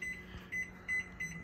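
A kitchen oven timer being set for 20 minutes gives three short, fairly quiet electronic beeps in a steady rhythm over low room hum.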